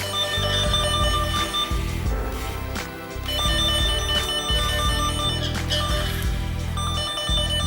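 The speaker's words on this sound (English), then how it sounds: "We can hear a continuous tone." An NF-8601 PoE tester's cable locator probe traces a cable inside a wall, sounding a loud, steady electronic ringing tone with a warbling pulsed pattern that barely dips throughout.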